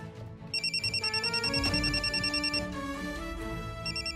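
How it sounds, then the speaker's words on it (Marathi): A telephone ringtone plays alone with a repeating electronic melodic pattern, steady and fairly loud, ringing continuously through the clip. "आमच्या टीमच्या मॅनेजरचा फोन आहे."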